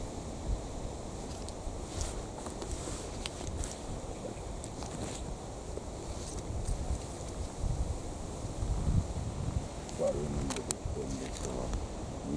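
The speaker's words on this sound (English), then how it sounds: "Yeah, it's windy. It might be the wind." Wind moving through a pine forest at Rivington, a steady broadband rush with gusting swells and scattered knocks that could be creaking trees, continuing throughout.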